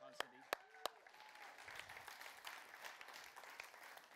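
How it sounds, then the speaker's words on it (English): Light applause from a church congregation clapping for Todd and Cindy at a youth service, a few sharp claps first, then soft, scattered clapping carrying on under murmuring voices. "We can clap for Todd and Cindy."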